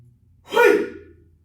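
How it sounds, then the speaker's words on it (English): A single audible in-breath during a qigong exercise, a soft rising breathy rush lasting under a second, close and alone. "Remember, relax, breathe in, gather energy in hand. Relax, exhale."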